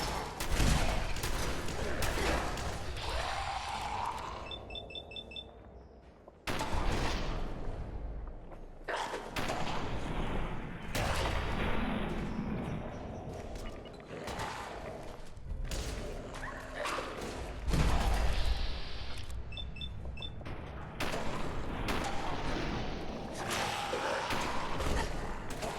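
Gunfire with headshots from the video game Fallout 4 comes as bursts of shots and thuds over a rumbling game soundscape, at moderate loudness across the span.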